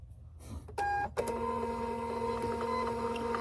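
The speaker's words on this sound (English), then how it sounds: "And then I'll do a printout since now it looks like I really have one sheet left." An office printer prints a single sheet: a sharp mechanical click and short whir give way to a steady, close motor hum and feed rattle that carry on without a break, with no one talking.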